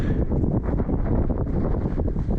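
Wind gusts across an open, grassy hiking trail overlooking the land at Glacial Lakes State Park, Minnesota, buffeting the microphone with a loud, continuous roar that rises and falls.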